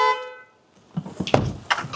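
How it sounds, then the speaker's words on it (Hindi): A car horn gives one steady, moderately loud honk, then fades out, followed by faint shuffling and movement noises nearby. "अरे हॉर्न बजा दे"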